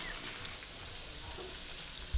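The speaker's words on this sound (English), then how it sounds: "We don't add too much to the mushroom when we're frying them" Morel mushrooms frying in a pan give a soft, steady sizzle, faint and continuous, with no talking over it.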